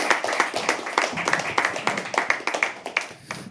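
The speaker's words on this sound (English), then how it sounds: "Can we all please clap?" An audience claps at a live poetry open mic night, making a dense, lively patter of hand claps with no voices over it.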